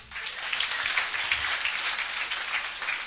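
A church congregation applauds with steady, dense clapping that holds at an even level for a few seconds, with no voices.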